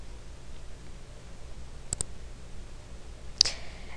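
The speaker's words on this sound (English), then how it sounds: "I'm going to click save." Computer mouse clicking on a desk, a quick double click followed a moment later by a single sharper click, close and quiet over faint room hum.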